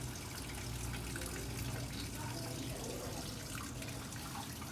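A Whirlpool washing machine fills with water during an automatic check cycle, giving a steady, loud rush of running water that holds constant throughout with no pauses.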